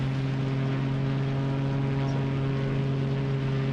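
Pitts biplane engine in steady cruise flight in Microsoft Flight Simulator 2020, a constant loud propeller drone with a steady low hum, no voices.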